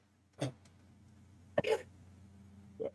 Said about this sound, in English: And that cough was not intentional.